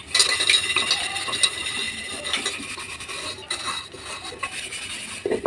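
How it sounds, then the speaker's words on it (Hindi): Metal pots, pans and cutlery clatter and scrape in a home kitchen as dishes are put away, with irregular close clinks and rasping knocks throughout and no talking. "चलो बाकी बर्तन मैंने रख दिए"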